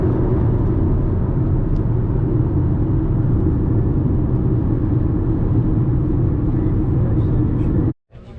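A car drives along at a steady pace, its low engine and road rumble loud and unbroken until it cuts off abruptly near the end.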